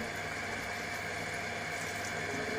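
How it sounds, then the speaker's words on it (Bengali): Rose water and kewra water pour into a pot of mutton biryani with banana blossom, a continuous soft liquid hiss and trickle lasting a few seconds with no talking. "তো পরে আমি যখন গোলাপ জল, কেওড়া এবং গোলাপ জল আমি একসঙ্গেই দিলাম।"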